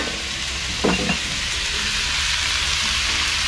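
Spicy frog stir-fries in a pan with a constant loud sizzle; a brief scrape of the stirring utensil comes near the start, with no speech.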